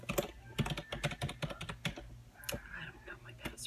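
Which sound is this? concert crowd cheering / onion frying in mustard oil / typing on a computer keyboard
typing on a computer keyboard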